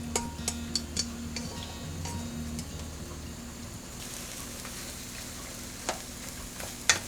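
A German-style omelette cooks slowly in mayonnaise over low heat, giving a quiet, steady sizzle with scattered light ticks and clicks from the pan throughout.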